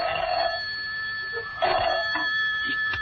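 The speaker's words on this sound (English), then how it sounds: "A short while after that, John Steed's telephone rang." A telephone rings in an old-fashioned radio drama, with two bursts of bell-like trilling ringing separated by a brief pause, fairly clear and alone without voices.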